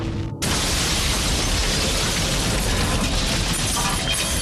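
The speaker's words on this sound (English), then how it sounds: "a terrifying explosion rips through Legian Street." A sudden, powerful bomb explosion on Legian Street in Bali bursts in after a brief quiet moment, followed by a sustained roaring wash of noise that stays loud to the end.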